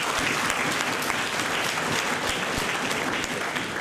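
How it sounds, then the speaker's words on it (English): Dense, steady audience applause fills a hall at an academic annual day, many hands clapping continuously at even loudness throughout. "Please give him another big round of applause."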